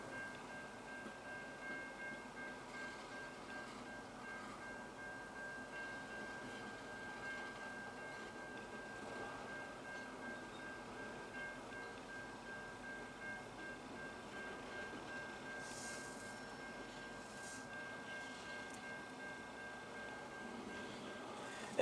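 CN freight train L519 pulls into Ladysmith Yard at a distance with a low, steady rumble and faint squeals of wheels on rail.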